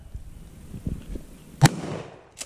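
A single sharp, loud blast from a 12 gauge Maverick 88 pump shotgun at an outdoor gun range, preceded by faint low thumps and rustling, with a smaller pop at the end.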